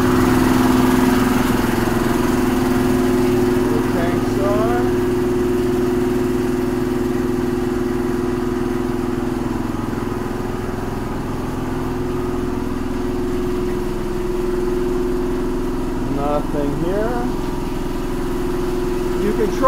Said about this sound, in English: we're just going into the compressor room, which will be loud